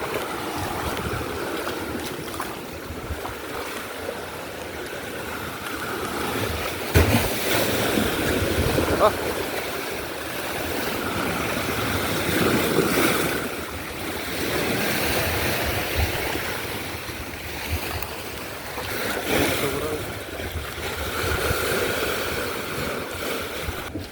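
Big sea waves during Typhoon Uwan surging and crashing around a small outrigger boat, a continuous roar of surf with heavy wind buffeting the microphone, rising in swells, with faint voices underneath.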